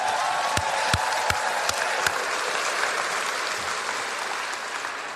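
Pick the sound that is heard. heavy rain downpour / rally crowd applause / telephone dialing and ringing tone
rally crowd applause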